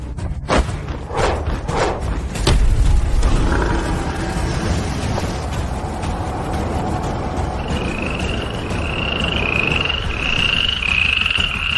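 A toad croaks in a steady, repeating series of rough calls that grow louder and higher toward the end. A few heavy thuds come first, over a constant low rumble.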